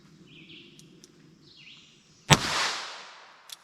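A single sharp gunshot from a .22 Short 29-grain copper-washed round cracks once at close range, then trails into a short decay over faint background noise.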